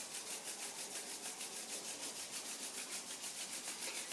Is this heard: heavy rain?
no